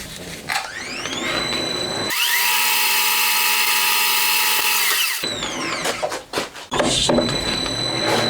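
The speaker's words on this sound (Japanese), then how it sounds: "ドリルでセンタードリルって下穴開けだね" A center drill whines steadily at high pitch for several seconds while boring a pilot hole for a Honda Monkey engine part, between bursts of clattering machine-shop noise.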